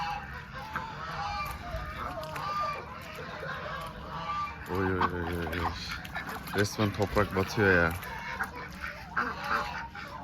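Loud, rapid honking quacks from several farm ducks nearby, coming in bursts over a noisy outdoor background, with a voice speaking briefly in Turkish.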